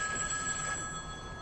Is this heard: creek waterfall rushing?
no